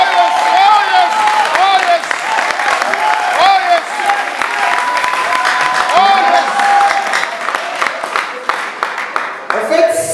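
A church congregation claps and cheers in sustained, loud applause, with a voice speaking over the crowd throughout.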